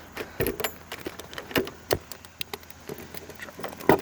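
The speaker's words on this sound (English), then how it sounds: "Trying to remember which way the key went in this thing." A key rattles and scrapes at the trunk lock of a 1987 Dodge Diplomat, with scattered metallic jingles and small taps spread over a few seconds, close and fairly quiet.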